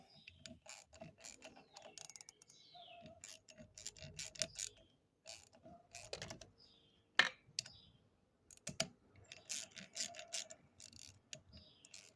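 A ratchet wrench clicks in quick, quiet bursts while working on the carburetor of an Evinrude 7.5hp outboard motor, with short pauses and small metallic taps between the runs of pawl clicks.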